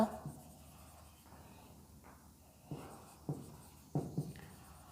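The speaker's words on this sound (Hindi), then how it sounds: "एक और लिखते हैं not only the father" Marker or chalk strokes on a classroom board during an English grammar lesson, soft scratching with several sharper taps spaced irregularly, quiet and close with no talking.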